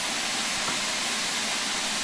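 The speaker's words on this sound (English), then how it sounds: "you'll need to open the cylinder cocks to remove any water" Steady, broad hiss of steam venting from the open cylinder cocks of a steam locomotive in Train Sim World 5, continuous and fairly loud with no breaks.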